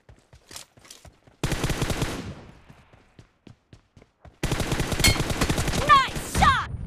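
Sniper and assault rifle fire in a shooting video game: a few sharp isolated shots, then a long rapid automatic burst, a pause with single cracks, and another dense automatic burst, all loud and close.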